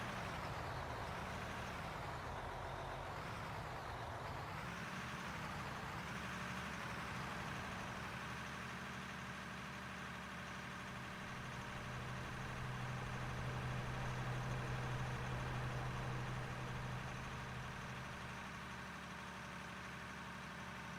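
Heavy mining trucks in the Out of Ore video game run in a steady, continuous engine drone with a low idling rumble that rises slightly in the middle, with no voices over it.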